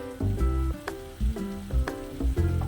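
Pre-fried fish pieces tossed into hot oil with masala, giving a close sizzle broken by a few loud stirring scrapes and knocks against the pan, with no talking.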